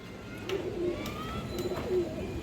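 Pigeons at a breeder's loft coo in two soft low phrases near the middle and end, over a steady hum of background noise with faint distant chatter.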